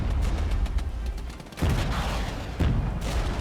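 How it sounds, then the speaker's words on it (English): Gunfire and an artillery barrage in the Regiments war game, with dense crackling fire and low booming bursts in two heavier surges, loud and continuous. "Let's get an artillery barrage on them as well"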